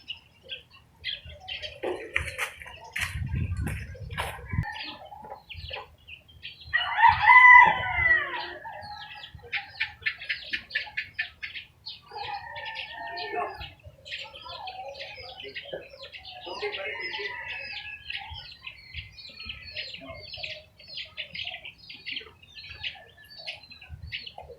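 Gamecocks, fighting roosters, crow loudly at close range, with repeated clucks and bird chirps scattered around them and people talking faintly in the background.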